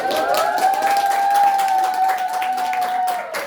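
Applause from a classroom audience during a microteaching session, steady clapping mixed with crowd noise under a sustained high electronic tone like feedback.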